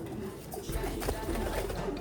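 Blue bar and red bar pigeons cooing close by, a low, steady burbling murmur that runs unbroken and swells slightly partway through.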